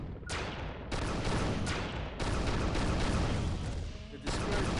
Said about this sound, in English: Take a couple practice shots.